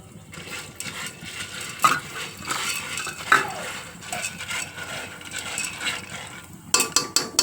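Corn kernels stirred in a pot with a utensil, giving repeated scraping and clinking metal sounds, fairly close and steady, with no talking.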